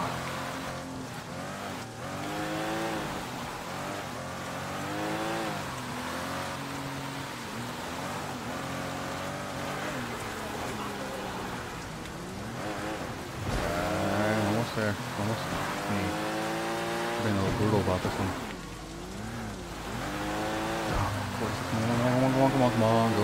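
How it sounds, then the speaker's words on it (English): A fast car races in the Sleeping Dogs video game, its engine revving loudly up and down through gear shifts, with tires squealing and talk over the roar. "Glad I got a fast car."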